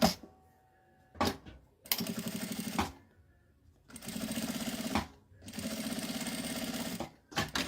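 A sewing machine stitching a plastic sheet onto the edge of a zipper, running in several steady whirring bursts separated by short pauses, with no talk.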